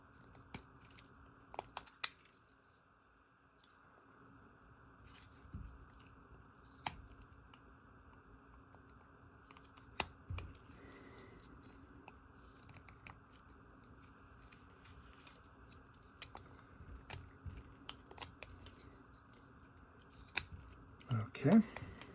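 A blade cuts into the back of a wooden penguin carving, heard as faint, scattered snips and scrapes at close range, with short louder bursts over a quiet background.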